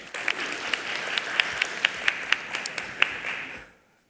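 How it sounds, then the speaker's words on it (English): Audience applause during a speech at an asset management indaba, a modest, fairly distant patter of clapping with a few sharper individual claps, lasting about three and a half seconds before stopping. "it deserves a round of applause"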